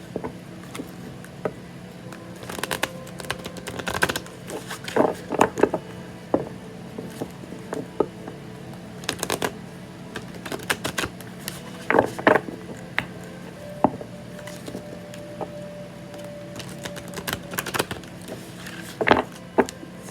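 Large tarot cards are shuffled in irregular bursts of crisp riffling and tapping, close and fairly quiet, repeating for about twenty seconds with no talking.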